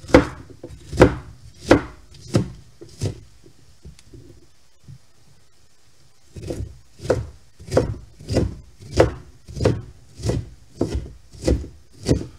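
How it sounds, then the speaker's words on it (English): A knife chops onions on a board for chicken soup in a series of evenly spaced, close, firm thuds. The strokes stop for about two seconds of near silence, then resume in the same steady rhythm. "Okay, we're going to cut these onions up."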